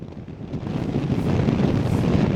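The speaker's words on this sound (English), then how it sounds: "We can see how windy it is." Strong wind from a coastal storm roars and buffets the microphone with a deep, rumbling gust that builds and holds, loud and continuous.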